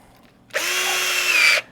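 A power drill with a 7/16 bit bores into a board in one loud, continuous whine lasting about a second, with its pitch shifting slightly as it cuts.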